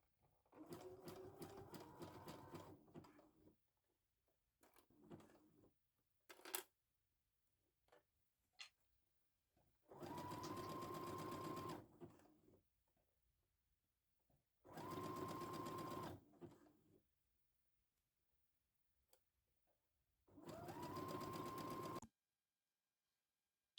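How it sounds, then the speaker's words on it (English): A sewing machine stitches a cuff onto a sleeve in several bursts, each a few seconds long with a steady whirring hum, separated by quiet pauses with small clicks and handling noises. "you're going to go to the sewing machine and stitch this in place"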